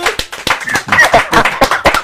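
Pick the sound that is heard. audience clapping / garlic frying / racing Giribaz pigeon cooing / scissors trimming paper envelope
audience clapping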